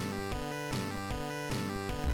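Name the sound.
video game drum sample music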